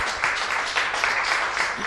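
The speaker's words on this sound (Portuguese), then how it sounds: "Uma salva de palmas a Jesus" Church congregation applauding for Jesus, a short dense burst of clapping with some voices mixed in.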